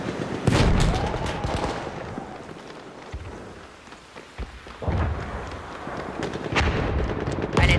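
Heavy mortar shells boom and thud in a multiplayer video game team deathmatch, several loud blasts with rumbling tails spread across the stretch, one near the start and more toward the end.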